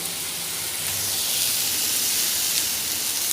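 Tomato and tamarind sautéing in a pan for mint rice, giving a steady, close sizzling hiss that runs unbroken throughout without any voices.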